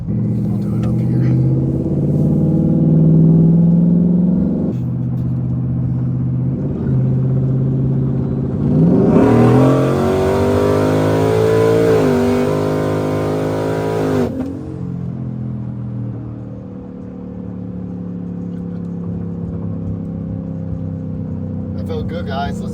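A twin-turbo 4x4 Ford F-150 pickup engine rumbles at idle, then revs hard in a loud rising-and-falling burst before settling back to a low idle rumble.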